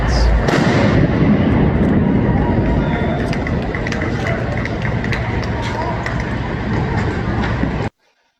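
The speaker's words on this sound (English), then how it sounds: "They were shooting fireworks," Fireworks go off at a nighttime protest as a dense, loud barrage of crackling pops and booms with crowd noise and voices, then cut off abruptly.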